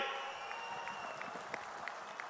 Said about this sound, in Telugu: గట్టిగా చప్పట్లు కొట్టే హర్షాన్ని ఆమోదాన్ని తెలియజేయాలి